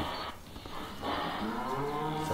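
A cow lowing on a farm, two long deep moos in a row, close and fairly loud, with a brief pause between them and no talk over them.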